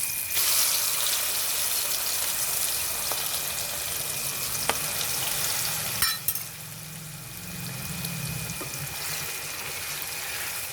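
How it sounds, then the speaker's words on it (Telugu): Prawns and green chilies fry in hot oil for a gonguura prawn curry, a steady broadband sizzle running loud and close, easing slightly after a few seconds with a brief clatter. "ప్రాన్స్ ఇలా ఆయిల్లో కొంచెం మగ్గాలండి."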